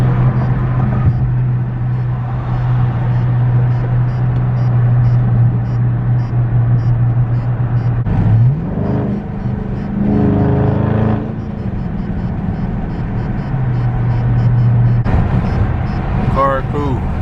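A Dodge Charger Scat Pack in traffic, heard from inside the cabin as a steady low engine drone with a brief rise and shift midway, under someone talking and some wind noise.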